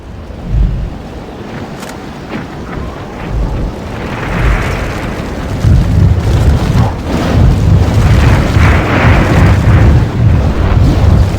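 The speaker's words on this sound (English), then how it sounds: "the photo of Hauzer's wife causes an explosion" An explosion in the video game Alone in the Dark, set off by a photo of Hauzer's wife, rumbles as a long, deep boom with crackling debris that builds and rolls on for several seconds as a mansion collapses.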